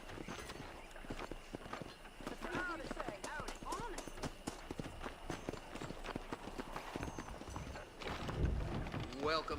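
Horse hooves clip-clop steadily in the Red Dead Redemption video game, moderately close amid background game ambience and talk, with a brief heavier thump near the end.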